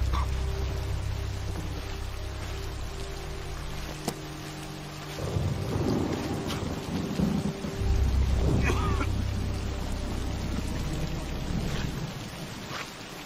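Steady heavy rain pours throughout a storm scene in the western Tombstone, with deep rolling thunder rumbling in the middle stretch, loud and continuous with no talk.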